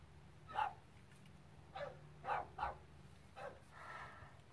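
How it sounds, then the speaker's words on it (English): Several distant dog barks come in short bursts, faint and spaced out, over a quiet low background hum. "dogs are barking, so hopefully they're not too loud"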